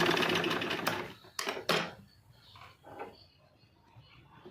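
Sewing machine stitching the cup of a blouse lining, a short close run of rapid mechanical whirring that stops abruptly, followed by a few faint clicks and handling noises.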